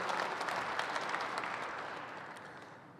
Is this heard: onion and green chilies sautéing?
no